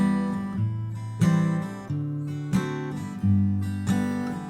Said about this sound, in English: you can add up strum brushes between all those down strums